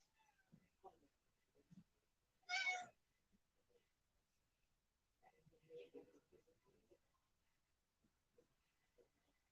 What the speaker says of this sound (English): You having fun, kitty?